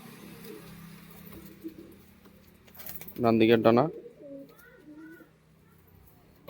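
Pigeons, tumbler breeds kept in a loft, give one loud, close burst of throaty cooing, preceded and followed by quieter soft coos and faint chirps, while someone talks over them.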